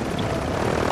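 Helicopter in the Call of Duty video game, a steady loud rotor and engine drone filling the whole moment without a break.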